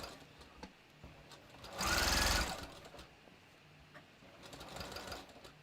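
A sewing machine stitches a seam on a bathrobe, one loud, fast run of about a second rising out of a quiet room, followed later by a softer, shorter burst.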